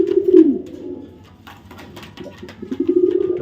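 Racer pigeons, Green Neck Budapest among them, coo close by in low, throaty rolling calls, one burst at the start and another swelling toward the end, over faint shuffling sounds.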